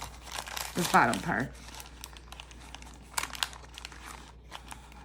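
A cutter slices through the bottom of a brown paper lunch bag, giving a short burst of crinkling and tearing paper near the microphone, followed by softer rustling as someone talks.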